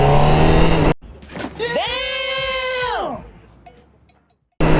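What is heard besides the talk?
Honda CBR1000RR-R Fireblade SP with Akrapovic exhaust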